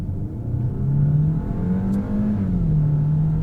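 A 2024 Peugeot 408 GT engine revs hard under acceleration, a loud, close, sustained drone whose pitch climbs and wavers as the car pulls, heard from inside the cabin with no talking.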